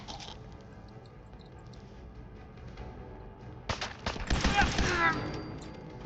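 Institute pistol fire in Fallout 4, a short cluster of sharp energy shots with whining tails arriving after a quiet stretch of low game ambience, loud and close.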